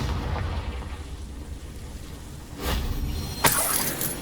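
A Confringo blasting spell goes off in Hogwarts Legacy, two sharp explosive bursts, the second brighter and louder, striking over a steady rumbling game ambience.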